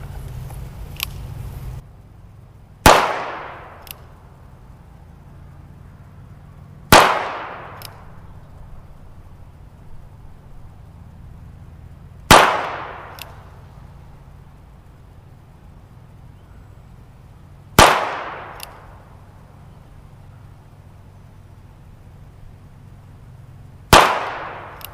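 Ruger Wrangler .22LR revolver fired offhand at a target: five sharp, loud cracks spaced several seconds apart, each ringing briefly before fading into quiet background.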